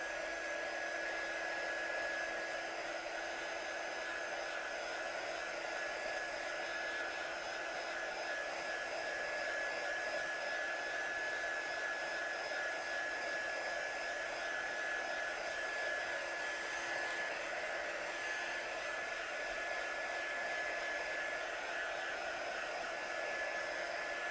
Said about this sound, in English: Let's dry this off with my heat tool